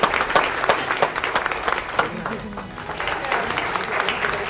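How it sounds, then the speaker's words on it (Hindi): Audience applause at an awards ceremony in India fills the room as an honoree receives a citation and memento, a dense steady wash of many hands clapping, loud and continuous, thinning slightly midway before swelling again. "एक बार जोरदार तालियों के साथ"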